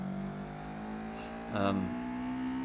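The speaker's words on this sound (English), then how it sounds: "that's definitely a VTEC sounding engine" A Honda CRX Del Sol's VTEC engine in the racing game Gran Turismo 4 drones with a steady, even hum, then swells briefly in a short rev midway before settling back.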